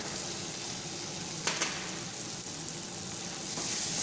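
Chopped tomato being stirred into a sizzling pan mixture for coriander chicken, a steady hiss of frying with a couple of brief scraping stirs, close and alone without any talk.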